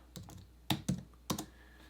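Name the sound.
typing on a computer keyboard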